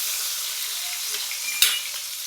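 Chopped tomato and green chili fry with cumin in a hot pan, giving a steady close sizzle with one sharp clink of a utensil against the pan near the end; nobody speaks.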